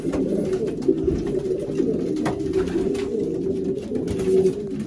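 Racing pigeons in a London loft cooing steadily and close by, with soft overlapping calls.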